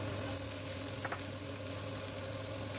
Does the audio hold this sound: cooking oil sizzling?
yes